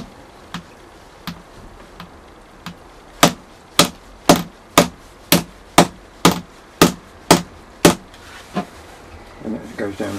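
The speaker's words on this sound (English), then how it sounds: "And give them a swift knock with the hammer." A hammer knocks caps into a car battery during renovation: a few light taps, then about ten sharp, evenly spaced, close blows, followed by quieter rattling.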